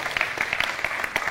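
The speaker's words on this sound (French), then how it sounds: "Je voudrais qu'on puisse applaudir tous les partenaires de la RTI" An audience at an RTI television group presentation event applauds in a short burst of close, dense clapping, with no speech.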